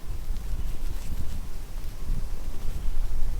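Wind gusts into an outdoor microphone in a steady, rough buffeting roar with no talking.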